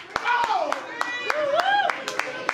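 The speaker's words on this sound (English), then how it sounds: "Give the DJ a round of applause for putting in work for us artists." A few sharp, separate hand claps ring out at an evening music show for a DJ, spaced irregularly under a close, prominent voice that speaks or chants over them.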